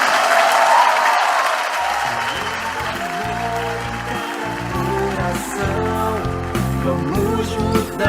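Church congregation clapping during a worship service, a dense burst of applause at the start that gives way to music with clapping carrying on underneath.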